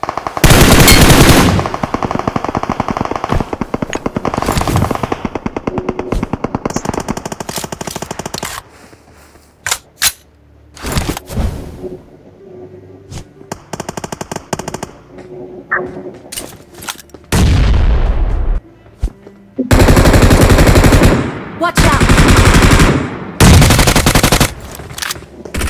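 Sustained M416 rifle fire in a battle royale game crackles in long automatic bursts with short pauses between, loud and close, mixed with more distant shots and a few quiet gaps.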